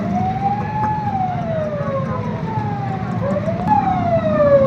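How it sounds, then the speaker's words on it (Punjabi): An ambulance siren wails in rising and falling sweeps over a dense rumble of blocked road traffic on a route into Lahore sealed with containers, loud and continuous throughout with no talk. "ਐਂਬੂਲੈਂਸ ਫਸੀ, ਐਂਬੂਲੈਂਸ ਨੂੰ ਵੀ ਰਸਤਾ ਨਹੀਂ ਮਿਲੇਗਾ, ਵਾਪਸ ਜਾਣਾ ਪਏਗਾ।"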